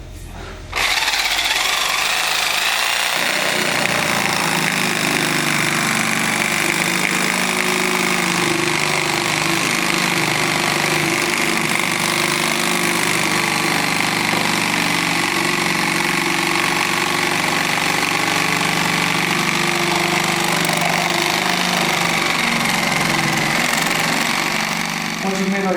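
A power tool runs continuously, cutting into a Superjet jet ski hull with a steady, loud, high-pitched whine after a brief start, sustained for the whole stretch without pause.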